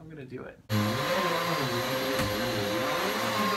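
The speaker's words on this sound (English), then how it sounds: "I'm vacuuming." A household vacuum cleaner switches on abruptly with a loud, steady motor whine and roar that runs without a break, after a brief moment of quiet talk before it starts.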